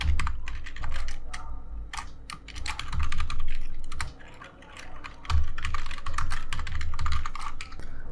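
Rapid typing on a computer keyboard while entering Python code, steady clicking keystrokes close up and fairly loud, with brief pauses and no talking.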